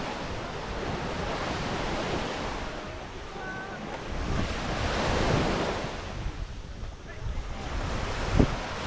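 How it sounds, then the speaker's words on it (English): Ocean surf rolls and washes steadily onto a soft sandy beach at Cala Torta, Mallorca, a continuous near wash of breaking waves with wind buffeting the microphone throughout. "trying not to get my feet wet as the waves come in"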